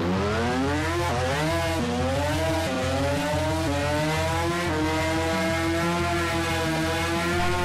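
Two-rotor rotary drag car on nitrous launching down a drag strip and accelerating hard, a loud continuous high-revving engine scream with rising pitch and brief dips at gear shifts over roughly eight seconds, with no talk.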